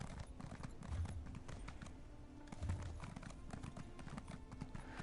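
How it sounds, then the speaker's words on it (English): Horse hooves clip-clop in the Elder Scrolls Online video game, a rapid steady string of light clacks lasting several seconds, with two heavier thuds and a low ambient drone beneath. "Here's my horse."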